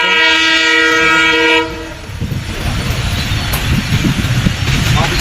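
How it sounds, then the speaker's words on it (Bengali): A train's horn blasts loud and close for under two seconds as it nears a station, then its rumbling, clattering run carries on at full volume. "ট্রেনের হরণ দিতেছে"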